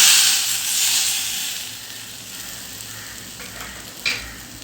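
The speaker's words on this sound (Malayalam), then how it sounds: "അപ്പോൾ നമുക്ക് കടുക് ഇതിലേക്ക് ചേർത്ത് കൊടുക്കാം." Mustard seeds hit hot oil in a pan while making papaya thoran, giving a loud, steady sizzling hiss that eases slightly, with one short crackling burst near the end and no talking.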